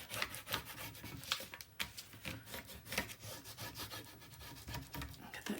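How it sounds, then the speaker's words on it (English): Paper edges on a handmade winter mini album page are burnished over taped-down magnets, a steady close scraping and rubbing with quick repeated strokes throughout. "Okay, burnish. Let's get all those edges."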